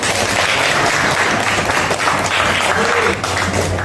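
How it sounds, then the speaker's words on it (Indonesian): Classroom applause during an academic supervision session, a steady dense roar of clapping hands from a group of students, loud and sustained throughout with no pauses. "Tepuk tangan untuk kita semua"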